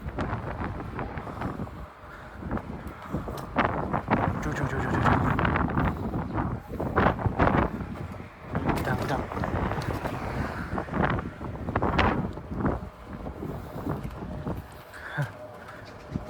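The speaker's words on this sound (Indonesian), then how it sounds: "kalau kita ke arah sini nih anginnya bersahabat gitu" Wind buffeting a microphone during a bike ride in Japan, producing heavy uneven rumbling gusts throughout, with scattered bird coos and faint voices partly buried in the roar.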